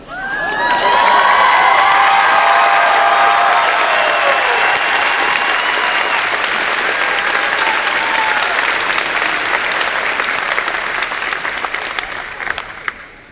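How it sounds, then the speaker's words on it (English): Large commencement audience bursting into loud, sustained applause mixed with cheers and whoops, swelling quickly and then slowly thinning over about thirteen seconds with a few last scattered claps. "I want to hear a big round of applause"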